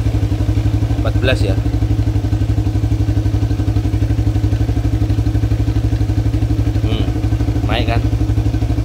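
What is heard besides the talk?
motorcycle engine starting and idling with Aracer mini X ECU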